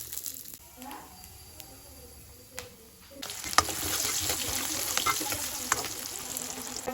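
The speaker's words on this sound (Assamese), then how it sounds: "এতিয়া গাহৰি কেইপিচমান কেৰাহীত দি দিছোঁ, তেল উলিয়াই লৈছোঁ।" Pork pieces frying in their own rendered fat in a wok, a quiet crackle at first that swells into a steady, close, broadband sizzle with scattered pops and clinks, no added oil.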